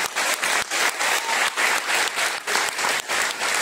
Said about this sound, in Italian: ragazzi, un applauso più forte.